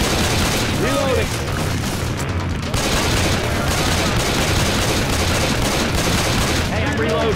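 Rapid gunfire rattles in a Left 4 Dead 2 firefight, bursts of shots and booms layered densely and loudly, with voices calling out over the shooting.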